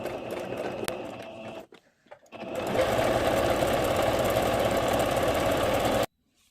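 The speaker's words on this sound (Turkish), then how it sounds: "Dikişimi bir makine ayağıyla dikiyorum." A Singer sewing machine with a presser foot stitches lace trim onto home textile fabric, first a shorter run, then a short pause, then a loud, steady rapid mechanical whirr that stops abruptly, all close up with no talking.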